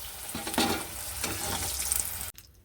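Pointed gourd frying in hot oil in a wok, a steady close sizzle with stirring scrapes, cutting off abruptly near the end.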